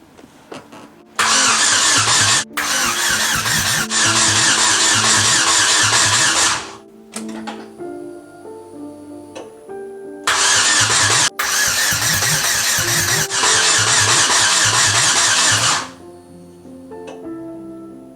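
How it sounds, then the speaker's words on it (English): An Ecotec engine swapped into a Miata, running open headers, cranks and roars in two loud bursts separated by a quieter stretch, with harsh mechanical rattling and a sputtering idle between attempts. "We should just turn the key, see if this thing fires."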